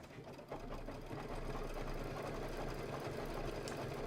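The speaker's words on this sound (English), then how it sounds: "it's going to do that pretty white decorative stitch" Sewing machine stitching a white decorative stitch on a quilted table topper project, a steady fast mechanical whir and rapid needle clatter running continuously at close range after a brief quieter start.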